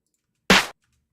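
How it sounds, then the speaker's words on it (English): A single dry snare drum hit, short and sharp with a quick decay and no ring, loud and alone against silence. "A dry snare."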